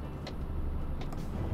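Simulated truck Jake brake in Euro Truck Simulator 2, heard as a steady, loud low rumbling engine drone with brief faint hissy bursts, and no talking.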